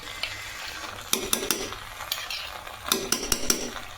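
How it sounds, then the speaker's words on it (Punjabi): Gravy in a pan for a soybean paneer and capsicum curry is stirred with a metal spoon, bursts of scraping and clinking against the pan over a low sizzle. "ਇਹ ਤਾਂ ਆਪਾਂ ਨੇ ਗਰੇਵੀ ਪਾ ਲਈ"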